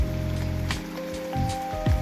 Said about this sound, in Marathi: आज आमच्याकडे पुन्हा पाऊस चालू झाला आहे